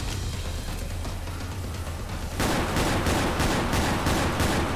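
Desert Eagle pistol fire in the Left 4 Dead 2 video game: a steady rumble of gunfire at first, then from mid-clip a series of louder, evenly spaced shots ring out alone.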